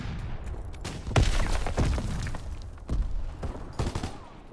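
Heavy battlefield gunfire in Call of Duty: WWII, with loud, close shots and volleys in irregular clusters over a steady roar of combat.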